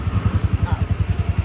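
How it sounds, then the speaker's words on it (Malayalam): A Bullet motorcycle idling just after starting, its engine giving a close, even, rapid thump-thump pulse at a steady beat. "ഓക്കെ വണ്ടി സ്റ്റാർട്ടായി."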